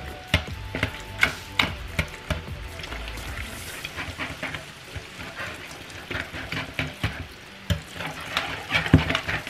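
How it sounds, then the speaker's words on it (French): A whisk beating ricotta and two eggs in a bowl, giving irregular scraping and tapping strokes up close across the whole stretch, with faint background noise. "On va venir battre tout ça avec un fouet."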